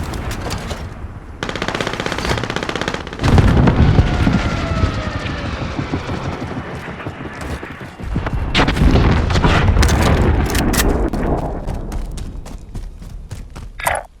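Video game combat with a rocket launch and explosions, heavy booming bursts and sustained machine-gun fire, loud throughout with a couple of big surges and a sharp final hit.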